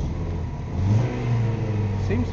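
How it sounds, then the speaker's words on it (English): A 1996 Dodge Neon with a misfiring, stuttering engine runs steadily while driving down the road, a continuous mid-pitched engine drone and road rumble with a slight swell in revs, heard alone without talk. "running all right now, just going down the road"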